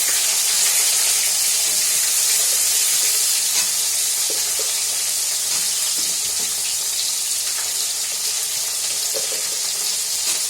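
Potatoes and flat beans frying in a pan, with eggplant to go in afterward, a continuous close hissing sizzle broken by faint scrapes and stirring clicks throughout.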